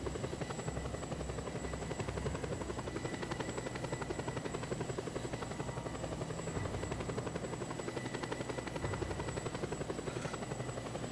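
An aircraft engine drones steadily overhead in Just Cause 2, a loud, continuous buzzing roar that holds without break throughout, with no voices over it.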